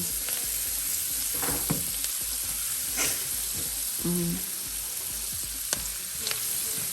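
Pasta sizzles and fries steadily in a hot pan on the stove, a close, continuous crackling hiss with a few brief clinks and scrapes, and nobody speaks.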